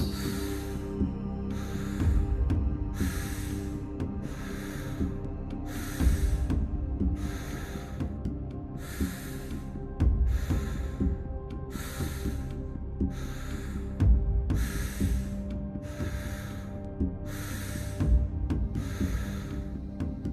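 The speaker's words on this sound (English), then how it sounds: "Keeping that breathing constant." Deep rhythmic breathing in a guided breathwork session, a regular series of about thirteen strong, close breaths, each a rushing airy burst, spaced roughly every one and a half seconds over a low steady background hum.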